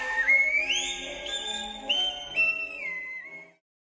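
A single person whistles a short, sliding, taunting melody that rises and dips before stopping abruptly.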